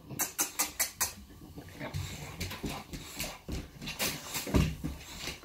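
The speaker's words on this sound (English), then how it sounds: "I got these dogs, man." Dogs patter and whimper nearby, a quick run of sharp bursts followed by scattered snuffling and yelps.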